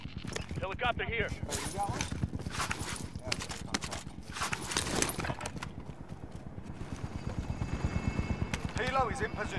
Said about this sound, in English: Helo is in position